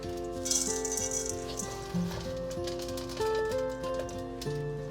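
Dry granola rattles and patters as it pours into a container, a crunchy scattering sound over soft background music.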